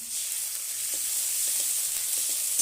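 Spices sizzle in hot oil alongside cauliflower pieces, a steady bright hiss with a few soft stirring scrapes, close and uninterrupted.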